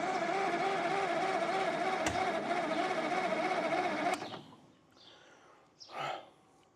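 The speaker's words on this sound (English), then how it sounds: "now it sounds like the damn starter's bound up." A bound-up starter on a John Deere 720 tractor whirs in a loud, steady mechanical drone for about four seconds, then cuts off abruptly, leaving a few faint, scattered clunks and rattles.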